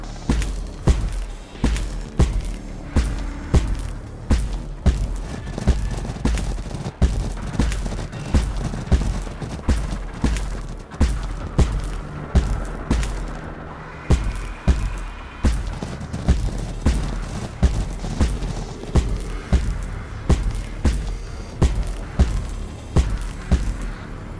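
Rapid, thudding battle gunfire from Warhammer 40,000: Battlesector fills the whole stretch, loud, dense bursts of shots and booms rolling over each other with no pause, and no clear talking.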